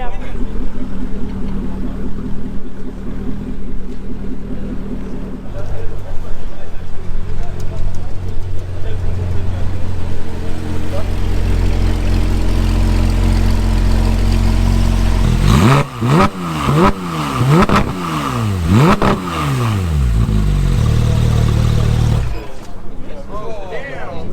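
A Chevrolet Corvette engine revs hard at a cars and coffee meet, a rumbling idle rising into several sharp rapid blips and climbs, loud and near, with crowd noise around it.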